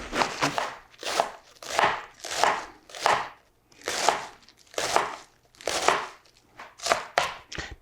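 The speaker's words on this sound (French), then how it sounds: "Parce que je vais commencer par couper un peu de chou" A knife chops Chinese cabbage on a board in a steady series of about nine crisp, close strokes, each a short crunchy burst, with no talking.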